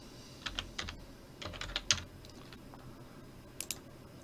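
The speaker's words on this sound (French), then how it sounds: "j'appuie sur la touche E de mon clavier" Several computer keyboard keys are pressed one at a time, including the E key, giving crisp close clicks in small irregular bursts with pauses between them against a low room hum.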